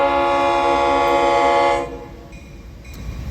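An FEC local train passes close by, its horn blaring loud and steady before cutting off, leaving the low rumble of the train rolling past.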